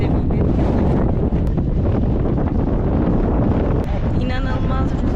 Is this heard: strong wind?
yes